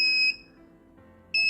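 Electronic alarm buzzer of an STM32 Nucleo-F411RE safety door lock sounding in two short, shrill tonal beeps separated by a brief pause, loud and close with no talking.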